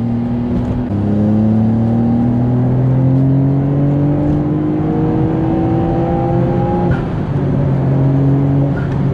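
A Nissan GTR R33 with twin turbos and a 450 hp 400R kit accelerates hard along a road, its engine note climbing steadily and loud, with a brief gear change partway through.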